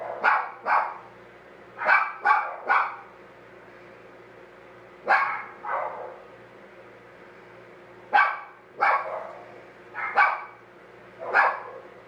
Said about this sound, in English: go and deal with these dogs